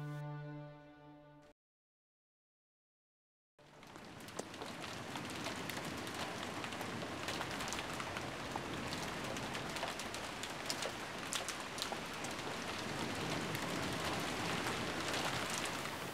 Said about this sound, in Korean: 창문을 두드리는 빗소리가